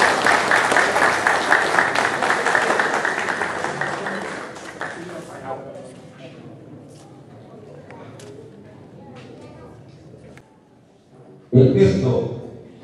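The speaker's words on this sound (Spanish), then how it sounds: "Un aplauso para este querido puerto e interminable." A loud outdoor crowd applauds at a civic school parade for the 87th anniversary of Rázuri, near Puerto Chicama. The clapping fades over several seconds to quiet, then a voice speaks at the end.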